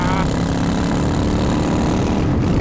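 Motorcycle engine running steadily and loud up close, a continuous low, gurgling drone with a rumbling harmonic texture and no pauses, from a bike compared among a Harley-Davidson XR1200, a Triumph Speedmaster and a Honda.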